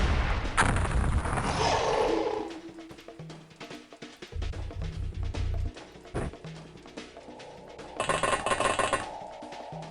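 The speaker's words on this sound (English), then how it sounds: "trust me, we can make much bigger explosions. We just aren't using the bigger shells right now." Artillery shell explosions in the video game XCOM Files: a run of heavy, booming blasts and crackling impacts rolling over about ten seconds, loud up front, then scattered thuds and a final dense burst, with no voices.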